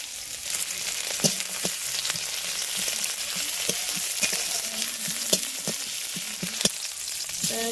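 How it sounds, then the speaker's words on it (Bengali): Tomatoes and onions frying in oil in a pan give a steady bright sizzle, with scattered sharp clicks and scrapes of a spoon stirring throughout. "ছোটো ছোটো টমেটাই তেল দেবো, পেঁয়াজ দেবো"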